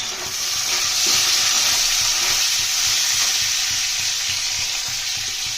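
Chopped onion and tomato fry in oil with a loud, even hiss that holds steady throughout, under faint rhythmic stirring.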